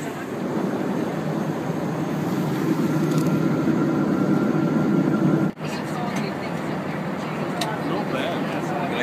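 Airplane cabin noise on a long ten-hour flight forms a steady, loud low drone, dipping briefly about midway before settling back into the same constant roar.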